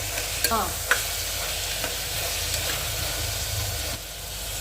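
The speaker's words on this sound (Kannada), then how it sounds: "ಟೊಮೊಟೊ ಹಾಕಿ ಚೆನ್ನಾಗಿ ರೋಸ್ಟ್ ಮಾಡಬೇಕು." Tomatoes roasting in a pan for tomato rice bath, giving a steady close sizzle and frying hiss throughout, with a few faint scrapes of stirring and no talking.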